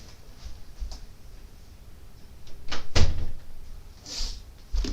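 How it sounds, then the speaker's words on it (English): A room door is pushed shut with a few soft knocks and a louder thump near the middle, followed by faint rattles, all fairly close with no talking. "me close my door."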